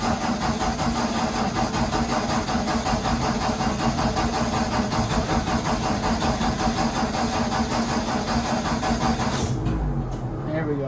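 A 1954 Ford F100 with a push-button start and carburettor cranks and runs on a cold day, a loud continuous engine drone close up that drops off abruptly near the end.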